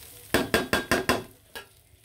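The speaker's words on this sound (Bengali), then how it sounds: "পোলাওর চালটা কিন্তু খুব সুন্দরভাবে ভাজা হয়ে গেছে" Polao rice grains stirred and frying in a pan, about five sharp scraping strokes in quick rhythm, then one softer stroke, close and fairly loud with no talk.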